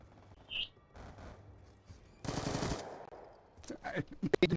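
Bursts of gunfire in a first-person shooter video game, a short rapid volley mid-clip and a cluster of sharp shots near the end, with quieter game sounds and a brief chirp in between.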